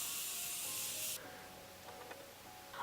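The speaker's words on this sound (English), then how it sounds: "I'm going to take my Morphe Continuous Setting Mist and just spray that." Morphe Continuous Setting Mist sprayed in one loud, steady hissing burst lasting about a second, followed by quiet handling noise and faint small clicks.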